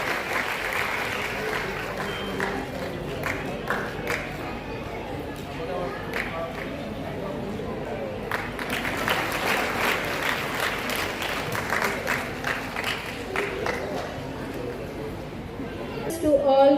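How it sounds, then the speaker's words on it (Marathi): An audience applauds students at a school's annual gathering, with sustained clapping from a crowd for many seconds, swelling in the middle, while people talk underneath. "सगळ्यांनी टाळ्या वाजवून विद्यार्थ्यांचं कौतुक करायचं आहे"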